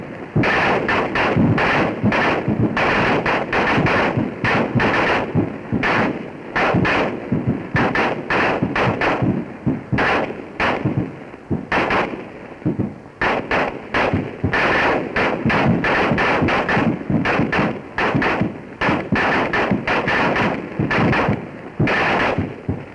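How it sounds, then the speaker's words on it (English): Twelve M1 rifles fire together in a 1942 WWII infantry training film: loud, sustained ragged volleys of sharp overlapping cracks with brief gaps, heard close as under fire, alone without talk. "Now listen to the complete sound of these 12 M1s as the soldier under fire hears them"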